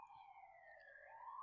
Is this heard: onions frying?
no